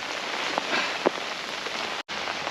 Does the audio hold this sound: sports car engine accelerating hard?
no